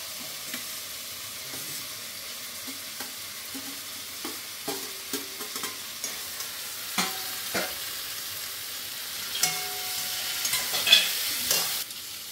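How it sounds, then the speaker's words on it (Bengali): Fried vegetables being stirred into vegetarian sago khichuri in a pan: a steady soft sizzle with repeated scraping strokes of the spoon against the pan, growing busier toward the end, no talk. "এবার আমি একে একে সব ভাজা সবজিগুলো মিশিয়ে দেবো"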